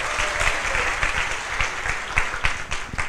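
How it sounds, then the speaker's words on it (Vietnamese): A large seminar audience in a hall bursts into sustained applause, dense clapping filling the room with a few sharper claps standing out, no talk over it. "Và hãy dành cho chính mình một tràng pháo tay."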